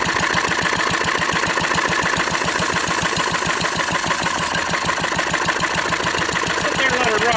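A 1940s Wolseley stationary engine idles steadily and loudly, its regular chugging firing pulses running throughout, with some voice-like sound mixed in.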